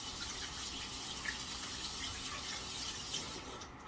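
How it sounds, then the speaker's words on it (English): Hands being washed under a running kitchen tap, a steady hiss of flowing water splashing into a sink, close and continuous, with no talk. "Let me wash my hands right quick."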